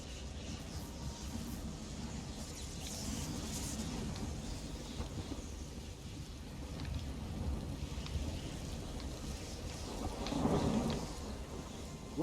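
A lightning spell in Elder Scrolls Online unleashes thunder, a long low rumbling roll over rain-like hiss that swells near the end into a louder crackling crash, with no talking.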